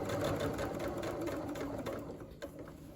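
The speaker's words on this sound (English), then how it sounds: "you just have to keep adjusting as you sew" A sewing machine stitching a shirt sleeve runs steadily with a fast, even mechanical whir and needle rhythm, close and alone, without talk.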